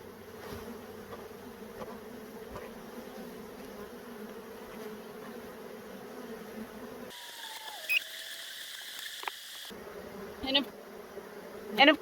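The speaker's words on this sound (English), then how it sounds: "It does help if I shake the bees off first, huh?" A steady insect buzz of honey bees hums throughout, with a brief quieter stretch and a few soft knocks near the end.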